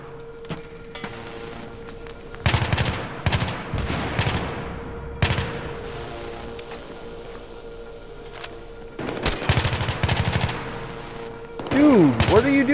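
Battlefield 3 combat gunfire rings out in repeated loud automatic bursts separated by short lulls, with a steady background hum and a final burst near the end.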